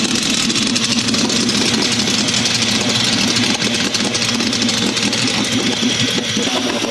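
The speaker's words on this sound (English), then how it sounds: "This little two-stroke engine is 500 times more polluting than a car engine." A small two-stroke outboard engine runs steadily on a little boat on Venice's waters, a loud, continuous buzzing drone with a rough low rumble that holds constant throughout, with no talk.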